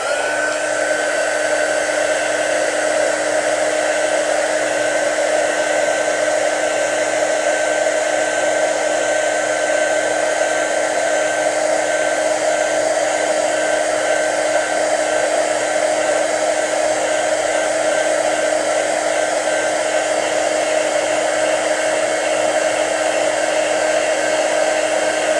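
A heat tool melts embossing powder with a loud, steady blowing roar and high whine that holds unbroken throughout, with no talking.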